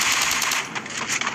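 A Thompson submachine gun firing in a video game, a loud, rapid rattling burst of closely spaced shots that runs nonstop for the whole moment.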